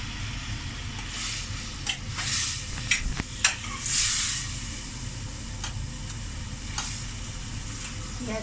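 Mutton karahi with chopped tomatoes sizzles and fries in a pan, a steady hiss broken by a few stirring clinks and scrapes, close and fairly loud with no talking.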